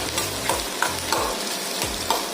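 Onion with added garlic sizzles steadily in a hot pan, a close, dense frying hiss broken every few tenths of a second by soft scrapes as the mixture is stirred.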